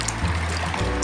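Water splashing and trickling as feet are rinsed in a DIY foot spa basin, a brief close wet pour with no talking.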